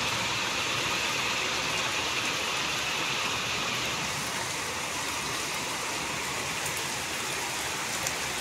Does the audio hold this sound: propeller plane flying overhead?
no